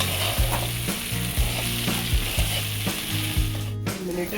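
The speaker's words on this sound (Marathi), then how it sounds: "भेंडी आता आपली चांगली परतली" Okra (bhendi) fries in a pan for bhendi bhaji, a steady loud sizzle running throughout with repeated scraping stirs of a utensil at a regular rhythm; no voices.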